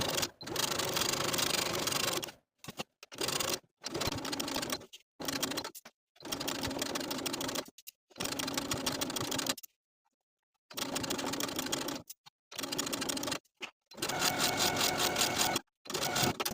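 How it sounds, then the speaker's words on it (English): A sewing machine edge-stitches a gathered neck-ruffle blouse, running along the neckline binding and down the end of a tie. It sounds in loud, close bursts of steady whirring stitching, separated by brief pauses. "edge stitching back down the end of the opposite tie"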